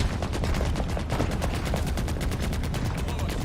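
Rapid automatic gunfire from the Halo video game, a dense sustained stream of shots across the whole clip, loud and steady with some faint voice.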